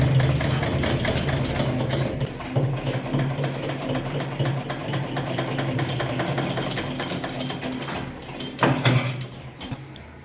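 Sewing machine stitching a boot seam on a gents' shoe, a fast continuous mechanical clatter of the needle running steadily with a brief pause and a louder burst near the end.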